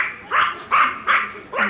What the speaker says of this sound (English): Don't interrupt when someone's barking.